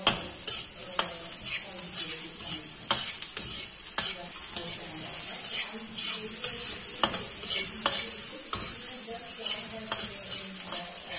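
Chopped mushroom stir-fried in a pan for fried rice, giving a steady loud sizzle throughout with repeated sharp scrapes and clacks of a spatula stirring.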